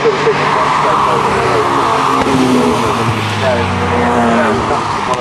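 A Jaguar XJS race car circulates at Cadwell Park during a Jaguar Enthusiasts Club race in 2009, its engine droning loud and steady with shifting pitch while a commentator talks over it.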